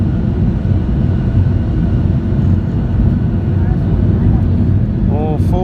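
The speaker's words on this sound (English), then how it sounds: "Full power now." Norwegian Boeing 737-8 jet engines spooling at full takeoff power, heard from inside the cabin as a loud, steady, broadband roar that holds without a break, with a brief higher whine near the end.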